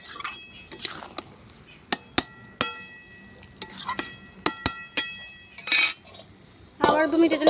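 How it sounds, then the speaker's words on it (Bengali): A spoon stirs beef and cabbage with chopped tomato in a pot over a clay stove, making sharp metallic clinks and taps at irregular intervals, and a voice speaks briefly near the end. "টমেটো কুচি দিয়ে একবার ভালো করে নেড়ে দেবো।"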